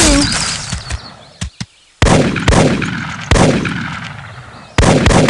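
Gunshots in the Big Buck Hunter Pro arcade hunting game: a few sharp blasts early on, then four loud booming shots about a second apart, each trailing off into a long decaying echo.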